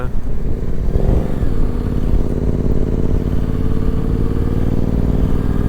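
Motorcycles riding in a group on a dusty road of sand and gravel over tarmac in Morocco, a steady close engine drone with rumbling wind and road noise throughout and no talking.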